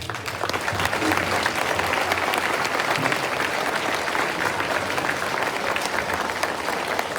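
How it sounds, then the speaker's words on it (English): Families in the audience at an elementary school fifth-grade veterans program applaud, a dense, steady wash of clapping from a large crowd that holds for several seconds at a fairly loud level. "So I'd like to give you guys a round of applause as well."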